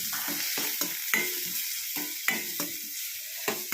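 Onions and green chillies sautéing in a pan, a steady sizzle broken by repeated scraping stirs of a spoon at an uneven rhythm, close and fairly loud, with no talking.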